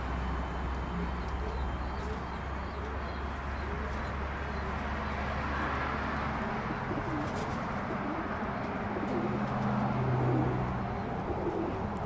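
Pigeons cooing in a loft, among spread, bar and sooty birds nesting inside, low soft repeated coos layered over a constant background hum, fairly close and steady.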